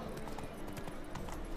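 Roach the horse's hooves clip-clop steadily on the ground in The Witcher 3 video game, a brisk, close walking rhythm over a dense background of ambient noise.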